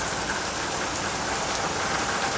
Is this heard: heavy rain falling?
yes